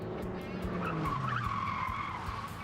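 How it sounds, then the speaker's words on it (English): A car's tires skid and squeal as it drifts around a bend on a wet road at about 40 mph, a sustained whining slide over a steady engine rumble, fairly close and loud. "the theory is that water will reduce the grip of the tires and let the car drift around the bend"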